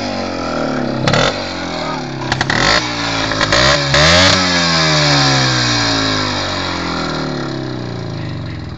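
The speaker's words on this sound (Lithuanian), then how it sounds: "Tiek apsukų nereikia duoti, yra pirmas." A motorcycle engine in first gear revs up hard in several sharp bursts, then holds a high, steady whine that slowly drops in pitch, loud and close throughout.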